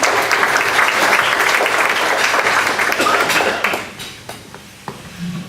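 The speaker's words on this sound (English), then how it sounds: "Let's have a little applause for our guests" Applause from attendees at a club meeting welcoming guests, a dense round of clapping that fades out after about four seconds, leaving a few scattered claps and light room noise.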